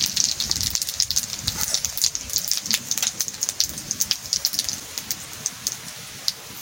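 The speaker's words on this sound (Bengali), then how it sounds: "তেজপাতা, জিরা দিয়ে দিচ্ছি" Bay leaves and cumin seeds sizzle in hot cooking oil while a paneer and soybean dish is being made, giving a close, steady frying hiss peppered with rapid sharp pops and crackles, with no talking.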